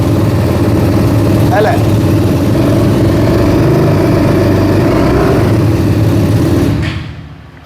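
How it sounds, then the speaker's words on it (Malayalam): A BMW G310 motorcycle with an aftermarket exhaust idles loud and close with a steady rumble and a brief blip of throttle, then cuts off near the end while someone talks. "നിങ്ങളെ ഞാൻ ജസ്റ്റ് ഇതിൻ്റെ എക്സോസ്റ്റോടൊന്ന് കേൾപ്പിക്കാം."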